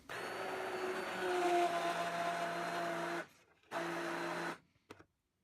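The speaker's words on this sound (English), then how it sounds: "make sure the bottom of the blender is low and not near the surface, otherwise you'll get shooting spurts of hot liquid everywhere" A blender purees hot black bean soup with a steady whirring drone that runs about three seconds, cuts out, then restarts for a second burst before a brief final pulse; no one talks over it.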